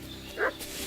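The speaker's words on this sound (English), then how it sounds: "What's that dog making such a fuss about?" Dog barking in the video game Kingdom Come Deliverance 2, a single short, fairly faint bark over quiet game ambience.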